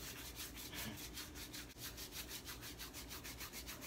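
A wax strip rubbed rapidly back and forth over skin during a leg-waxing challenge, a close, rhythmic scratchy swishing repeated many times in a steady pattern.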